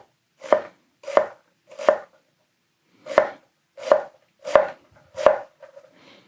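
A Hatsukokoro Kurokaze knife makes horizontal cuts through an onion, seven crisp close thuds against the board, three evenly spaced, then a pause and four more in steady rhythm, in a quiet room.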